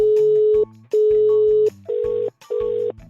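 Telephone line tone after a call is cut off: loud steady beeps in four bursts, two long and two shorter, with a low hum underneath and no voices.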